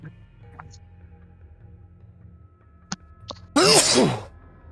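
A single loud sneeze bursts out close by after a stretch of quiet room noise with a couple of small clicks.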